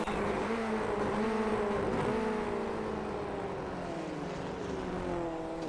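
An FF1600 race car in iRacing spins out at the Red Bull Ring, its engine note sweeping and wavering in pitch as revs rise and fall, steady and fairly loud with no voices.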